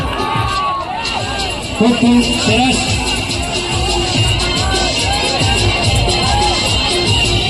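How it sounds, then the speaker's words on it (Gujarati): Loud crowd noise welcoming a guest at a lively Gujarati gathering, continuous cheering and babble with people talking and shouting over it. "તાળીઓના ગડગડાટથી વાઘુજીને વધાવીએ."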